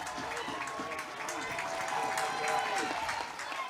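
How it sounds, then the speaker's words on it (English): A crowd at a college softball game between Virginia Tech and Clemson cheers and claps after a caught pop-up, a steady, fairly distant roar of applause that runs throughout. "the crowd rejoices"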